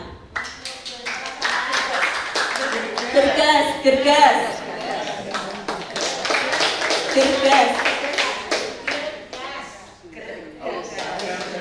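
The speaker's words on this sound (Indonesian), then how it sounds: "boleh tepuk tangan yang meriah" A women's church group applauds loudly at a Bible quiz competition on the Books of Samuel, with bursts of clapping mixed with chanting voices and crowd chatter as a host talks over them.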